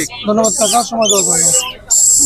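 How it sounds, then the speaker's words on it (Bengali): Rainbow lory parrots at a Mirpur bird market give loud, shrill, sustained screeches in short bursts close by, with a voice sounding between them. "আজকে আনছি সুপার টেম রেমবো লরি আর এলবিনো সুপার টেম"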